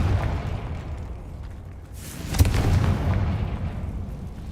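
A Confringo fire-blast spell from a Harry Potter video game erupts as a single booming explosion, swelling sharply and then rumbling off over a few seconds with no talk.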